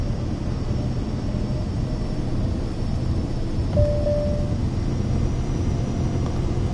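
Airplane engine at full throttle in Microsoft Flight Simulator 2024: a constant broad roar with a faint whine, steady and even, with a short tone near the middle.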